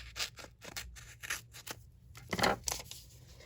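Scissors snip and trim watercolor paper in a quick run of crisp, close cuts with small gaps between them. The snipping is soft and clear, with no voices.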